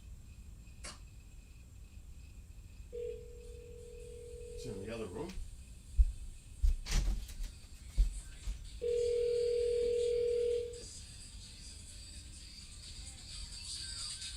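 An Alexa smart speaker placing a phone call sounds two steady electronic call tones, each lasting a couple of seconds, with a short gap between them, alongside clattering and brief speech in a room.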